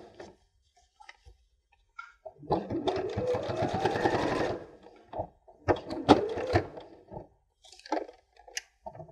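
A sewing machine stitches a fabric seam for a scissors case in short bursts: a steady whirring run of needle strokes, then quicker stops and starts with small clicks between, heard up close with no talking.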